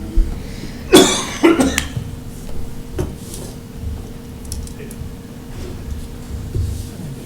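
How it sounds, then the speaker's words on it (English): Two harsh coughs close to the microphone during a public airport authority meeting, then quieter room tone with faint clatter and a soft thump. "Now I'll be coughing."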